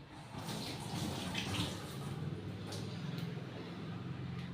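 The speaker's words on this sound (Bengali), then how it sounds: "দাঁড়ান একটু হাতটা ধুয়ে নিই।" Tap water runs steadily into a sink as hands are washed after a home meal of dried fish, chutney, sour dal and rice, a continuous close splashing wash with no talk.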